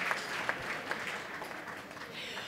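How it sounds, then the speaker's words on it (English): An awards ceremony audience in New York claps in a sustained round of applause, dense and moderately loud, with faint voices mixed underneath. "Give them all a nice round of applause"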